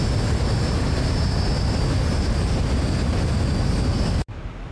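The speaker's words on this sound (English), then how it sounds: "The only thing is the noise of those engines." Boeing 737-800 jet engines roaring in a flight simulator flyby, a loud, continuous broadband rush with a steady high whine, cutting off abruptly near the end.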